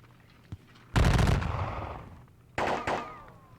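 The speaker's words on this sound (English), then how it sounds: "He's probably firing at my guns." Musket volleys and cannon fire in a Seven Years War strategy video game, a heavy burst of crackling gunfire with a booming tail, then two sharper shots later, loud and without talk.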